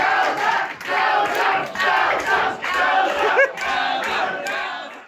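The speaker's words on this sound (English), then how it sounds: "there were cheers of Delta from the audience" Audience at a Newcastle drag show cheering and shouting, a loud continuous roar of voices with rising whoops that swells in waves across the whole stretch.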